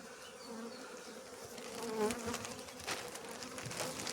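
Honey bees buzz continuously at close range at an apiary hive during spring work, a dense droning hum that swells and wavers, with no voices.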